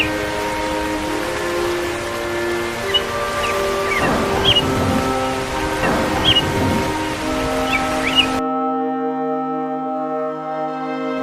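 Heavy cartoon rain hisses steadily beneath sustained musical tones, with two thunder rumbles rolling in about two seconds apart before the storm noise cuts out, leaving only the music.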